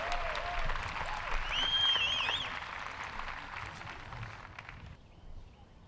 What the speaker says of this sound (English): a magnificent crowd, it almost sounds fake